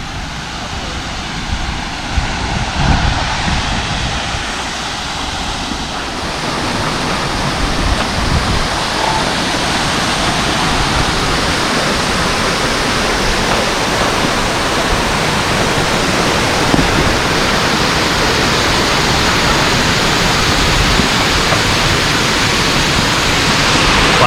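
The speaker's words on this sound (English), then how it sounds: "you can feel the mist coming off the little water explosion sprays" Water explosion sprays on the D-Day memorial beach mock-up in Bedford, Virginia, throwing up mist: a loud, steady, broadband rushing hiss like a waterfall that swells after a few seconds and holds, with faint voices beneath.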